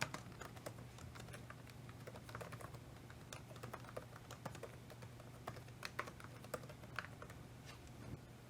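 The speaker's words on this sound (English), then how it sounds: "let's type this" Keys clacking on a computer keyboard in an irregular run of quick taps, close and fairly quiet, with a steady low hum underneath and no talking.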